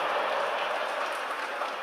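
A crowd at a humorous Islamic sermon gathering claps in a steady, dense burst that holds at an even loudness throughout, heard without any speech over it.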